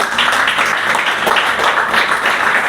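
An audience at a church seminar claps steadily in a dense, continuous patter of many hands, loud and close, with no voices over it.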